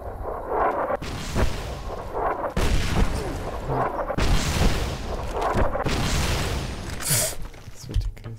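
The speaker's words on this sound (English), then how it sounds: "Yeah, they're shooting at us" Enemy gunfire in Fallout: New Vegas: a string of loud, heavy booming shots in irregular bursts, with brief gaps between volleys and faint voices underneath.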